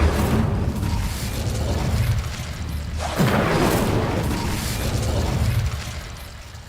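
An Incendio fire spell in Hogwarts Legacy, cast at the entrance of a hidden herbology corridor, bursts out as a loud, sustained roaring whoosh with a deep rumble. A fresh surge comes midway before it slowly tapers off.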